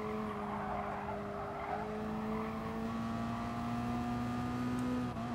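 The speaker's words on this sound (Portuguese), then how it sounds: "Que gostosinho o som do motor" A steady racing engine drone from a Toyota S-FR in Gran Turismo Sport holds a high tone throughout, rising slowly in pitch, with a faint squeal-like hiss underneath.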